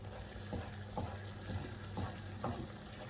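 Chicken pot pie filling stirred in a pot as it boils and thickens, a steady bubbling hiss with a spoon scraping the pot in an even rhythm about twice a second, close and fairly quiet, with no voices.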